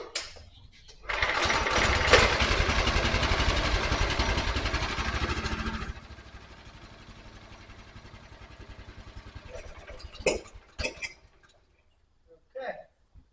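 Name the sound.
Honda 3000 PSI pressure washer engine running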